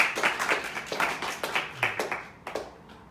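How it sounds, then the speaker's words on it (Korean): A church congregation claps hands at an anniversary service, a run of quick, fairly faint claps in an uneven rhythm that fades out near the end. "이럴 때 박수 한번 치는 거예요"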